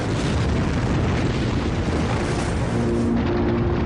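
A space rock bursting in the atmosphere, shown as a deep, continuous roaring boom that fills the whole stretch at high loudness without letup.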